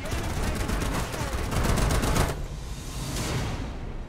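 Anti-aircraft flak gun firing in War Thunder: a dense, loud, rapid stream of automatic shots with no break, pounding the whole time and easing slightly near the end.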